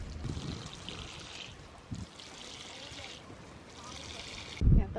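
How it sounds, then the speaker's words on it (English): Newly planted baby kale being watered in a garden bed, with three soft pouring splashes spaced a second apart, faint under quiet background. "Got some little baby kale plants planted, so gonna water those in"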